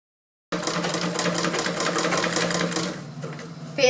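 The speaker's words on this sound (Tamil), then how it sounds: "சும்மா தான் தையல் மிஷின் ஓடிக்கிட்டு இருக்கும்" A household sewing machine running steadily with a fast, even stitching rhythm, close and loud, with no talking over it and a brief change in tone near the end.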